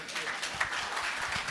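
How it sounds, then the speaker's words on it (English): Audience claps together at an energy conference, a brief steady round of applause filling the hall at moderate loudness. "Thank you very much for applauding."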